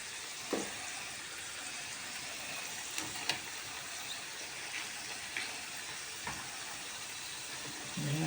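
Potatoes frying in a pan, a soft steady sizzle and bubbling of hot oil heard fairly close but quietly, with a few small clicks and knocks from the kitchen.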